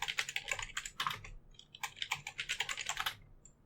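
Rapid, close keystrokes on a computer keyboard come in two quick bursts with a short pause between them as a root password is entered.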